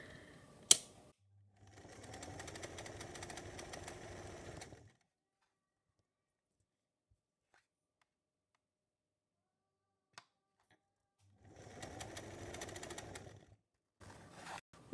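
A sewing machine stitches the belt of a two-part patiala salwar in two steady runs, near and clear, separated by a long quiet pause.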